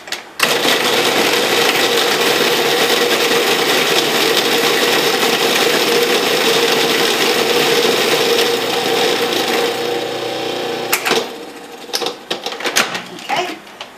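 A food processor whirs loudly and steadily for about ten seconds, chopping vegetables for raw Mexican rice, then stops, leaving a few clattering knocks and handling sounds.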